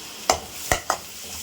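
Ginger garlic paste fries with onions in a pan, giving a low steady sizzle and three sharp stirring scrapes from a spoon, close and moderately loud.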